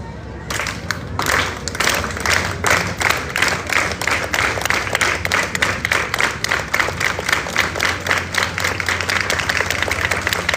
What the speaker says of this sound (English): One step, one clap.